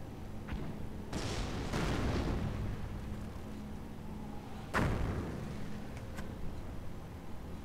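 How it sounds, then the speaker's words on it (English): Mortar rounds land in a World War II city-outskirts battle game, several heavy booms scattered over the stretch with distant crackling between them, rumbling at a steady moderate level. "a little bit of a mortar war here for Von Keitel and Gunny ITA"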